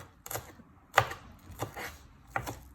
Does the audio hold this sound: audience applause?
no